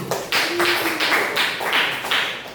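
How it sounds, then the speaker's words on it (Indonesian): A classroom group claps for the first discussion group, a rhythmic run of about six strong, evenly spaced clap bursts, close and loud with no talk. "Tepuk tangan untuk kelompok 1."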